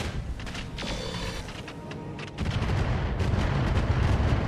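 Heavy weapons fire from a mech in the BattleTech mod Roguetech, a dense rumbling barrage of booms and blasts that swells louder midway and rolls on continuously with no one talking.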